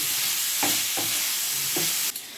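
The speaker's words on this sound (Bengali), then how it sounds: "ক্যাপসিকামগুলো দিয়ে একবার এটা ভেজে নেব।" Capsicum and softened onion stir-fried in a pan, a steady close sizzle with a few rhythmic spatula scrapes and taps, heard alone.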